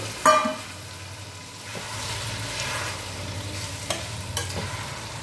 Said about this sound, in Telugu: ఇప్పుడు ములక్కాడ ముక్కలు చక్కగా వేసేస్తున్నానండి.